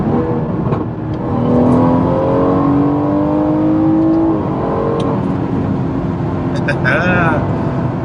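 Rear-wheel-drive BMW 340i accelerating hard in lower gears, engine note rising loudly from inside the cabin with a gear change, while someone talks over it.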